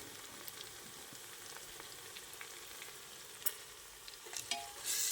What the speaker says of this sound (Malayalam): ഇപ്പോൾ സവാള ഒരുവിധം ഒന്ന് വാടിക്കഴിഞ്ഞാൽ ഇഞ്ചി വെളുത്തുള്ളി പേസ്റ്റ് ഇടാം.